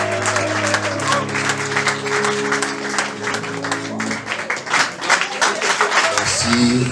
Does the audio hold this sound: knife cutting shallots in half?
no